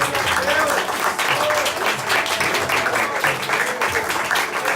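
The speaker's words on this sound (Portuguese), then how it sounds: "Bem forte as suas palmas ao Senhor Jesus." A church congregation applauds during a worship service, dense steady clapping filling the room throughout while voices carry on over it.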